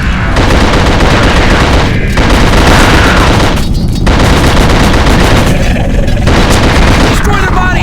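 Rapid gunfire blasting burning Diablo creatures in The Suffering video game, loud bursts of shots and booms in quick succession with brief gaps, dense and continuous, a voice briefly under the noise.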